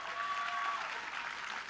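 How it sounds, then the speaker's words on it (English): An audience at a high school pitch night claps in steady, even applause, moderately distant, with no voices over it. "Let's give all four of those a big round of applause."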